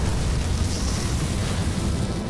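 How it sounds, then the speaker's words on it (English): A cartoon fire breaks out at a barbecue, heard as a dense, steady whooshing roar with heavy low rumble that holds at constant loudness with no voices over it. "It's a real fire this time!"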